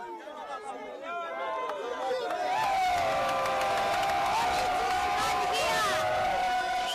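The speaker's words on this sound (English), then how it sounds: "The miners were cheering because word had gone round we'd come to help end their plight" Congolese tin miners cheering and shouting together outdoors, chatter building into a loud, sustained crowd roar with whoops that holds steady to the end.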